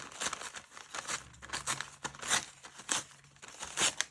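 Soft handmade tissue paper crinkled and handled up close, a run of quick crisp rustles and crumples in irregular bursts, with no voice.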